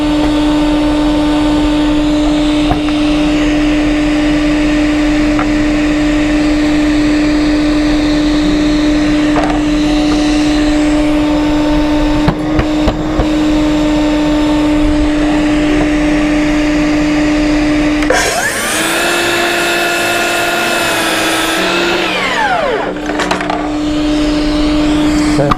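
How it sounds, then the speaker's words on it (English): A dust extractor hums steadily and loudly through a round farmhouse table build, and a power tool whines in briefly near the end. "There's still a little bit of dust with the dust extractor."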